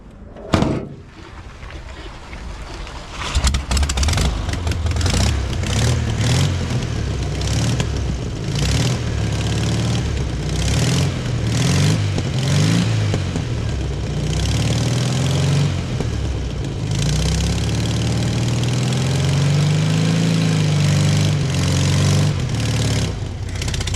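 A classic VW Beetle barn find at a scrapyard, with petrol poured down the carburetor, is bump-started: a loud thump, then the air-cooled engine catches and runs unevenly, revving and sputtering for a long stretch.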